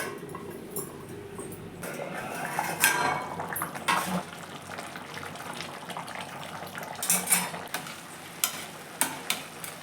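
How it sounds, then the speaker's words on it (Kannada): Food being mixed and stirred in a cooking pot before it is covered to steam, with repeated scraping and clinking of a spoon against the metal over a low sizzle, louder knocks near the end. "ಚೆನ್ನಾಗಿ ಮಿಕ್ಸ್ ಮಾಡಿ ಬೇಯಲಿ."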